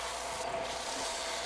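Glued-together wood pieces being sanded by hand, giving a steady, close abrasive rubbing hiss that lasts the whole moment without a break.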